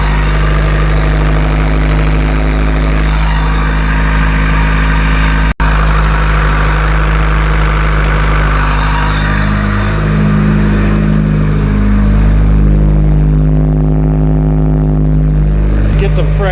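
A turbocharged D16 engine in an EJ8 Honda Civic runs with no muffler, a loud, steady, droning idle with a strong low rumble filling the whole clip, close and unbroken.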